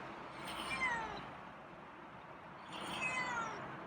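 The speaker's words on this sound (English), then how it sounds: "So you're meowing." A feral cat meows twice, a few seconds apart, each a drawn-out, rising-and-falling call heard fairly close in a quiet room.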